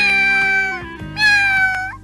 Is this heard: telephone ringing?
no